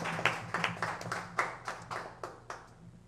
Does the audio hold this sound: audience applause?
yes